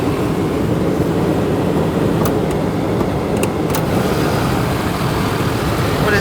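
A 2019 Ford Ranger XLT with a 2.3-liter four-cylinder engine idles. The truck has its check engine light on and is missing its front bumper. The idle is a steady, close, fairly loud rumble that runs unbroken for about six seconds, with no talking.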